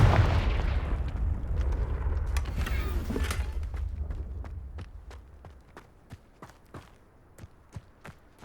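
A Confringo blasting-spell explosion in the video game Hogwarts Legacy, a loud burst with a rumbling tail that fades, followed by a run of quieter, evenly spaced footstep-like taps.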